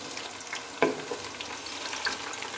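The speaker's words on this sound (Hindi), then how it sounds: "अब इसमें प्याज डालती हूँ ब्राउन होने के लिए।" Chopped onions frying in hot oil for chicken biryani give a steady, fairly quiet sizzle with one sharp clatter near the start, as if stirred or dropped into the pan.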